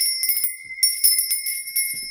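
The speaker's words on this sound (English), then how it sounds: "Bell, let me ring this lovely lady bell." A small handheld bell rung in repeated bursts of bright, sustained metallic ringing to cleanse the air, close and loud with short pauses between shakes and no talk.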